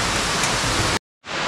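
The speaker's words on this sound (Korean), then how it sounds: "저 아래도 또 폭포죠." A waterfall in a Seoraksan mountain valley, one of many cascades falling through a gorge into a large pool amid autumn foliage, gives a steady, loud, close roar of rushing water that cuts off abruptly and then resumes.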